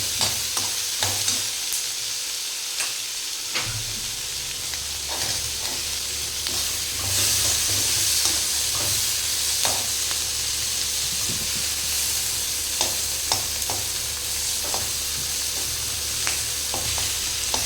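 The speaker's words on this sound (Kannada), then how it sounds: "ಚಂದ ಹುರಿಬೇಕು ಅದು ಮೆಣಸಿನ್ಕಾಯಿ, ಆಮೇಲೆ ಬ್ರೌನ್ ಟೈಪ್ ಆಗುತ್ತೆ ಅದು." Green chilies sizzle and fry steadily in a pan while a spoon stirs them with repeated scraping clicks, a continuous close hiss filling the whole stretch.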